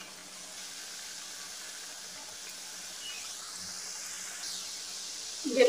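Masala namakpare frying in hot oil on a medium flame, a steady soft sizzling hiss that stays even throughout, with a brief louder clatter at the very end.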